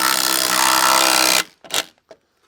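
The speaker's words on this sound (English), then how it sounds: "So this is just a typical 1/2 inch impact wrench. I'm going to drive that home." A 1/2 inch impact wrench drives a fixing into concrete, a loud, steady buzzing burst for well over a second that stops abruptly, followed by a couple of short, sharper knocks.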